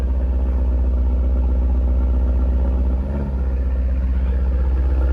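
An Audi RS6 engine fitted with an IE catback exhaust idles on a first start, a steady deep low rumble held throughout with a brief dip and swell near the middle.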